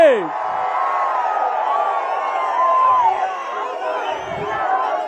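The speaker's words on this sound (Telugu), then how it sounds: "స్వాగతం చెప్పండి గట్టిగా చప్పట్లు కొట్టి" A large crowd at a political rally roars and cheers continuously, a dense wash of voices with whoops rising above it, sustained loudly throughout.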